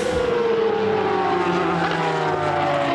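Ferrari Formula 1 car engine screaming past at close range, a loud continuous high-revving whine with a falling pitch as it sweeps by on a race circuit, no talk over it.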